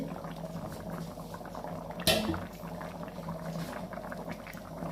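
Sambar bubbles and simmers steadily at a low level in a pot, with one brief sharp clink partway through.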